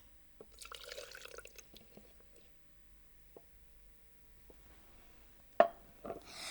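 Overflow water from a container dripping into a jar during a school science demonstration; sparse drips and small splashes, quiet and close, with a few louder clinks near the end.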